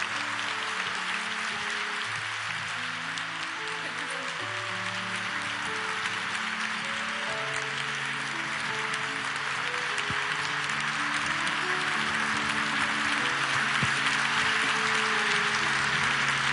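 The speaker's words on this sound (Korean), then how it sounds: "큰 박수로 우리 사랑 챔버 축복합니다" A church congregation gives long, sustained applause for a chamber ensemble, an even, rain-like wash of many hands clapping, with soft sustained musical tones running underneath.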